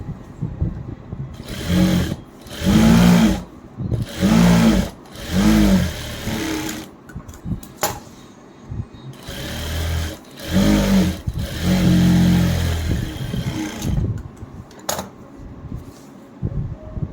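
A sewing machine top-stitches folded canvas in repeated whirring bursts of a second or two, separated by short pauses, close and fairly loud.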